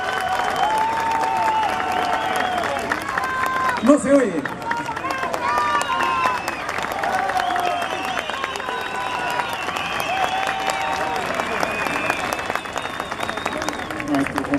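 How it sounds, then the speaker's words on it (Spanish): Audience applause for Ayacucho music masters at a recognition ceremony, a steady broad clapping wash throughout, with a brief spoken remark partway through. "Yo quiero pedirles un aplauso grande para nuestros grandes maestros ayacuchanos."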